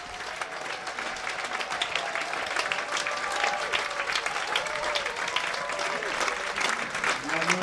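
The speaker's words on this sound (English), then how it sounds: "And the applause as he makes his way back to the dugout from the Rapids faithful" Cricket crowd at a Worcestershire Rapids versus Durham T20 match applauding a departing batsman, sustained dense clapping from a large stadium crowd with a faint steady tone beneath, continuous and even across the whole stretch.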